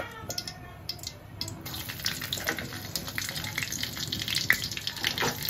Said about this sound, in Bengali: জিরেটা একটু টকবক করে ফুটতে না ফুটতে দিয়ে দিব